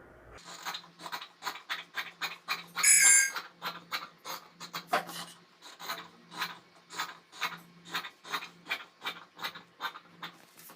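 Scissors cut bias strips from stretchy elastane-blend fabric, producing a steady rhythmic series of close, crisp snipping strokes, one after another at an even pace, with one longer, louder cut partway through and no voices.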